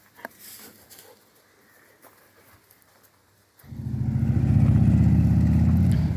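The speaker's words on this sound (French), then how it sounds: "Harley Davidson." A Harley-Davidson motorcycle engine rumbles to life partway through after quiet background ambience, then holds a loud, close, throbbing idle with a steady lumpy pulse.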